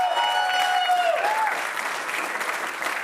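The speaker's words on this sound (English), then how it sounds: "coming in with a big, big applause" Crowd applause at a 10m air pistol shooting World Cup in Bhopal, India, loud and continuous across the moment, with a gliding electronic tone sounding over the start.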